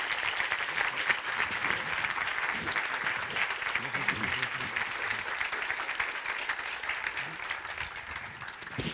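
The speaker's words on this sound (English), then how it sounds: "Please give Simon a big round of applause" Audience applauding after a talk, dense sustained clapping from a room full of people at a steady level, with faint voices mixed in.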